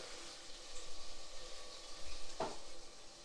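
Melted butter sizzling faintly in a pan, a soft continuous crackle with a single short scrape of a stirring utensil near the end, quiet and close.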